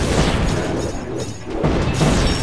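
Heavy booming cannon blasts from a Kingdom Rush battle, a dense rumbling barrage with a lull in the middle before the loud volleys resume.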